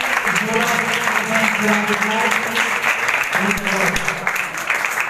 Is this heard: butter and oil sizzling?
no